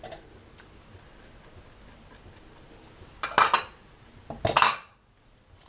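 A spoon stirring dry basbousa ingredients (sugar, coconut, salt, baking powder) in a dish, giving two bursts of scraping clinks against the bowl after a few faint ticks, then quiet.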